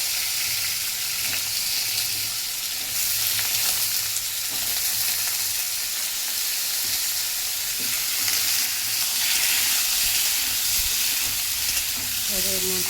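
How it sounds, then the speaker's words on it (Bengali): Vegetables hit hot oil that already holds green chili and nigella seeds, making a loud, continuous crackling sizzle with occasional scrapes and stirring clatter. The sound stays close and steady throughout, and no one speaks. "দেখো তেলের মধ্যে কাঁচা লঙ্কা আর কালো জিরে দিয়ে দিয়েছি। এবারে সবজিটা দিয়ে দেবো।"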